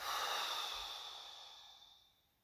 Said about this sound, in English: And let it all out through your mouth.